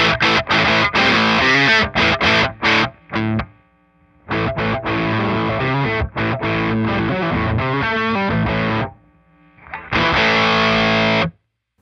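Electric guitar played through a homemade Rat-style distortion pedal, heavily gained, with the tone control being adjusted; loud, dense distorted riffs and chords come in bursts separated by short gaps, with no voice.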